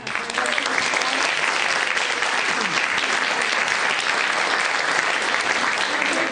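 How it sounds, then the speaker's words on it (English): An audience applauding the winners at the New York City Book Awards ceremony, a steady wash of clapping that holds at full strength throughout without pause. "let's give a big round of applause to all the winners tonight"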